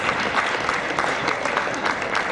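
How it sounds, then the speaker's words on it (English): A crowd at a leadership lunch claps steadily in sustained applause, dense and even throughout with no pauses. "So we're going to put you in the final round of applause for Troy."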